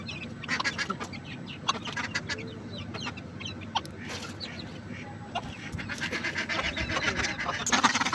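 Ducks and a few chickens feed on rice mixed with paddy husk in a village yard, with busy pecking, dabbling and soft clucking throughout, close and continuous against outdoor background noise.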